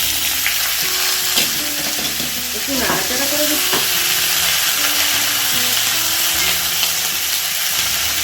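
Potatoes sizzle steadily in a hot pan while a utensil scrapes and stirs in short bursts; a voice speaks briefly.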